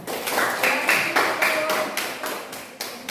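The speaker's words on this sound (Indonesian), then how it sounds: "Kita beri tepuk tangan untuk kelompok 1." Classroom applause for a student group after their discussion presentation, a few hands clapping in a steady rhythmic beat, close and moderately loud.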